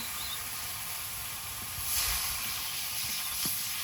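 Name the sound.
water added to sizzling fried chili powder and spices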